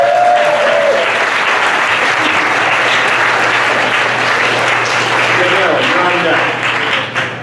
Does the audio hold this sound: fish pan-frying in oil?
no